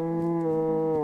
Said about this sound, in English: Shut up, cow.